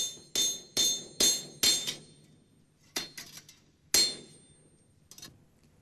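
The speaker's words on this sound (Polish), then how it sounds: "młota poruszanego kołem wodnym, mogli wykuwać już blachy tak duże" A water-wheel driven hammer forging steel plates for armour strikes in sharp, ringing metallic blows, a quick burst of four, then scattered single strikes with short decaying rings, close and loud against a quiet background.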